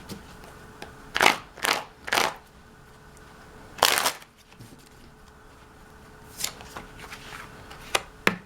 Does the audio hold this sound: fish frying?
no